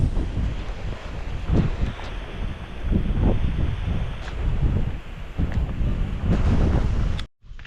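Strong wind buffets the microphone on farmland being planted, in loud, rough gusts that swell and ease throughout, then cut off abruptly near the end.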